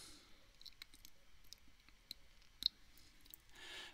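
A faint mouse click confirming OK in SolidWorks sheet-metal software, a single sharp tick standing out amid a few softer scattered clicks in a quiet room.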